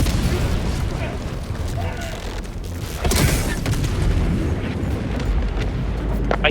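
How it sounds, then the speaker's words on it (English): A loud, rumbling hell bomb explosion in the video game Helldivers 2, with a sharp burst around the midpoint swelling into a sustained roar layered over constant battlefield noise. "The auto turret just shot the hell bomb on that side of the wall there."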